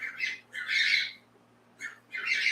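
Pet birds squawking angrily indoors, four loud, rasping bursts separated by short gaps, with a steady low hum beneath and no voices.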